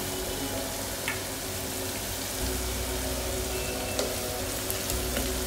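Green chillies crackle and sizzle in oil in a pan, a dense, continuous frying hiss with faint pops and a soft low rumble underneath, with no talk.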